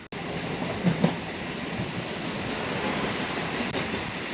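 A local train on the Sealdah–Dankuni line in West Bengal rushes past at speed, a loud, steady roar of wheels and carriages with a few clunks near the start and no talk over it.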